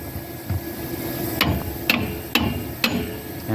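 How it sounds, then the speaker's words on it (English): A hammer taps the top of a ball joint on the front suspension of a 1973 Chevy LUV pickup. Four sharp metallic strikes come at a steady, moderate pace over a low background hum, close and fairly loud. "I just tap the top of the ball joint"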